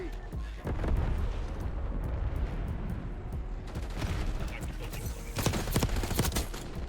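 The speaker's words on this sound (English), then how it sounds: "Enemy napalm strike incoming." Napalm strike explosions in a Black Ops 6 multiplayer hardpoint match: a rapid string of sharp blasts and crackling bursts over continuous rumbling battle noise, with heavier clusters of impacts near the start and the end.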